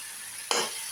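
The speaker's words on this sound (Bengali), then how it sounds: "লাউ শাকটা একটু ভালো করে ভাজা" Bottle gourd greens hit a hot pan, a quiet background hiss suddenly swelling into a brief, bright burst of close sizzling that then eases slightly.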